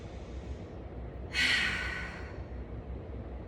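A single deep breath during a yoga session, a soft airy exhale rising suddenly, holding briefly and trailing off over a quiet low room hum, no talking.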